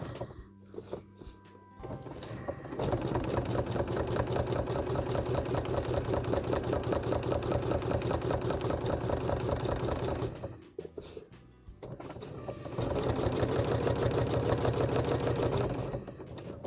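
Domestic sewing machine stitching over fabric and thread lines, a loud steady rapid mechanical whir running for long stretches, pausing briefly, then resuming, with no talk.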